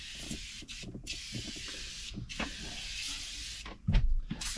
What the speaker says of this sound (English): We got the super clean in the spray, foam spray.